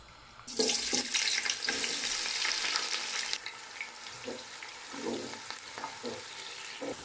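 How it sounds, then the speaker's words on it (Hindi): Onions hit hot oil with a sudden loud hiss that crackles for a few seconds, then softens to a gentler sizzle with occasional stirring clatter. "अब मैं इसमें प्याज डाल दूंगा"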